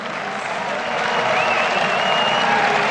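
Large crowd applauding at GamesCom, a dense, steady wash of clapping that swells slightly louder after the first second and holds without voices breaking through.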